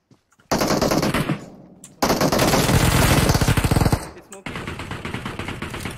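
Rapid automatic gunfire in a shooter video game, loud bursts of fast repeated shots with short pauses between three strings.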